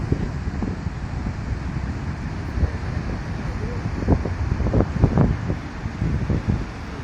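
Niagara Falls roars steadily as a dense, continuous wash of falling water, with a few louder surges, heard from a nearby viewpoint on a walking tour.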